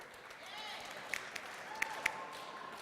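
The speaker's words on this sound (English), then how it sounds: "Give him a round of applause," Faint, distant applause from a crowd in a sports hall at a 2012 Seattle competition, a soft steady patter with a few sharper claps standing out.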